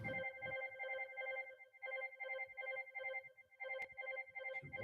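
Landline house phone ringing indoors in repeated electronic trill bursts, a steady rhythmic pattern of rings with short gaps, moderately loud and alone with no talking.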